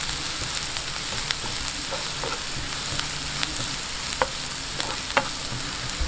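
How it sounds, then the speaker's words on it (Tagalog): Onions sautéing in a pan for a chicken empanada filling, giving a steady close sizzle and crackle with occasional sharper pops, unbroken by voices. "Sunod natin ang sibuyas. Ganun din po, gisahin natin mabuti"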